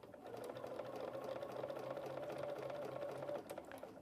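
A BERNINA sewing machine with a Lap Seam Foot stitches quilt binding, giving a continuous, even mechanical hum and rapid needle clatter at low volume, with no talking.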